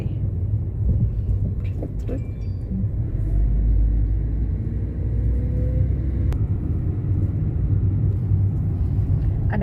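A car drives up a steep mountain road at Khao Yai, its engine and tire noise a steady low rumble throughout while someone talks over it.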